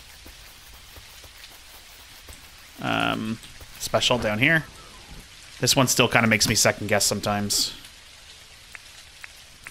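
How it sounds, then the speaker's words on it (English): Steady rain patters continuously through a scene in the Dinkum video game, a soft hiss of drops carrying from start to end while someone talks over it in bursts. "I am tired of the rain"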